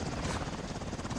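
Steady, loud thudding of helicopter rotors with a constant engine buzz, close and continuous throughout, from the video game Saints Row.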